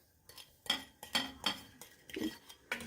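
A utensil stirs dry ingredients through a lentil stew pot, producing about seven separate scraping, clinking strokes against the metal at an uneven rhythm, close and fairly quiet, with no talking.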